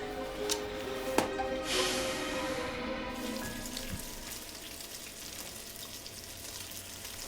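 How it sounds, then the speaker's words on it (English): Meat frying in a pan gives a continuous crackling sizzle, close and moderately loud, with a few clinks and knocks of kitchen handling at the start. "I'm frying meat."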